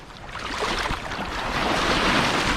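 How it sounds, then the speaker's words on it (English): Loud rushing surf swelling up as a wave breaks close by, with gusty wind noise over the microphone. "getting attacked by waves now"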